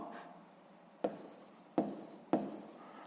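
Pen writing on paper while working a sixth-grade math exercise, with three sharp close strokes starting a second apart after a quiet scratchy opening, no voice heard.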